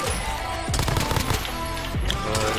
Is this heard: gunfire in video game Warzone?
yes